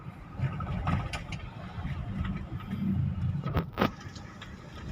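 A 2005 Toyota Innova manual petrol car cruises along a road in Garut, its engine and road rumble droning steadily at moderate level, with a brief louder swell of passing noise near the end.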